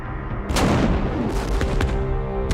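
A heavy 19th-century siege mortar of about 7.5 tons, loaded with a large gunpowder charge, fires with a deep booming blast. A rumbling tail and further thuds follow.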